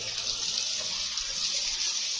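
Water rushing steadily from a hose while plants are watered outdoors on a hot day, a continuous hissing spray close by with no talking.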